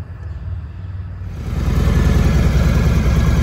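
A Harley-Davidson motorcycle engine catches after a quiet moment and settles into a loud, steady idle with a low, rhythmic throb, close by and alone.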